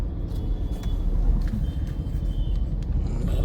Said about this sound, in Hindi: थोड़ा बहुत ट्रैफिक मिलेगा ही।